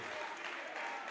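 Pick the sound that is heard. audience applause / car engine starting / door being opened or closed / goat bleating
audience applause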